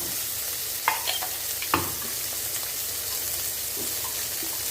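Onions and tomatoes sautéing in a pan for a tender coconut kurma, a continuous close sizzle with a few sharp clinks and scrapes of stirring early on, then steady frying alone.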